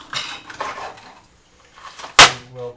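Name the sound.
knife slicing deseeded vegetable into pieces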